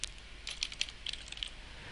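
A username is typed on a computer keyboard, a quick irregular run of light key clicks, close but quiet, with no one speaking.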